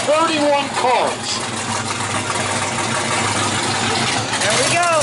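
A 426 Max Wedge dual-quad V8 in a stock car at an outdoor car show fires up and settles into a loud, rumbling idle, with people talking over the engine noise.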